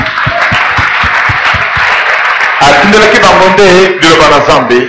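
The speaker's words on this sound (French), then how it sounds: "Applaudissons fort." Audience at a Congolese church service clapping loudly, dense applause mixed with rhythmic claps at first, then joined by loud voices and cheering.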